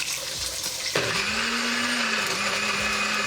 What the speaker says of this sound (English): Try and do a better job getting it in the blender.